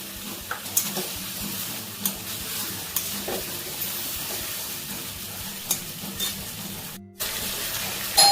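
Slit green chilies drop into chicken frying in a pan, giving a steady close sizzle with stirring scrapes and a brief quiet gap near the end, no talking.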